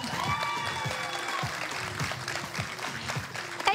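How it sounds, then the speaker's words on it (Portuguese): A small audience at a beauty pageant gala final applauds with steady, moderately loud clapping that continues throughout, with faint tones in the background. "E será que posso pedir a este restrito, mas precioso público, o primeiro forte aplauso desta noite?"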